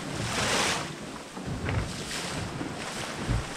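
Wind gusts and waves wash against a sailboat at sea on the Les Sables to Azores leg, with rushing surf swells and buffeting wind noise on the microphone, fairly loud and unbroken.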